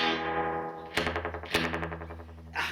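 Twangy electric guitar notes ring out through the heavy spring reverb of a Raven guitar amplifier, each pluck splashing and decaying into a long, shimmering tail.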